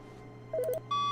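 A series of short electronic tones like phone dialing beeps, then a long steady beep, from an incoming phone call in The Stanley Parable video game, clear and close with no talking.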